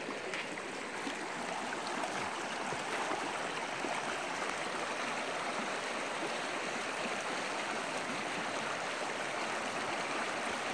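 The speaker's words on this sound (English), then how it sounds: "We're down on the river." A river flows past close by, a constant broadband rushing and babbling of water that stays at the same level for the whole stretch with no voices.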